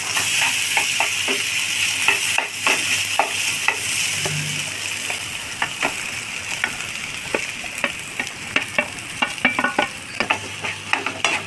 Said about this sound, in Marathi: हे बघा असं फ्राय याला करायचं किसलेलं